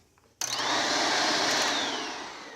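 A Shark Rotator Powered Lift Away vacuum cleaner switches on abruptly and runs with a loud, steady high whine that slowly eases slightly, close by.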